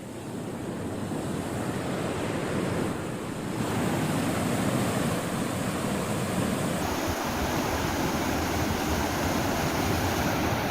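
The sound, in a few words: floodwater rushing over a bridge after heavy rain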